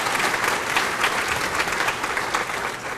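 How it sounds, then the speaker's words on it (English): Audience applause fills a school dedication ceremony for a new elementary school: dense, steady clapping from a crowd, loud and continuous throughout with no talking. "give them a round of applause"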